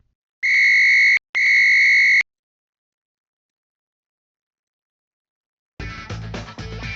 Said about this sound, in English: the official will blow the whistle and stop the play